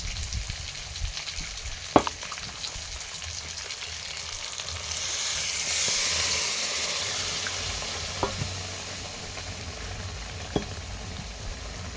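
Chicken frying in a pan with ground spice paste gives a soft, steady sizzle and bubbling throughout, broken by a few sharp clinks of stirring, with no talk.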